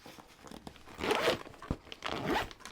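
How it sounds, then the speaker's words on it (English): A zipper drawn closed along a crafted bag, two quick zipping strokes, close and clear with no talking. "Let me zip it up."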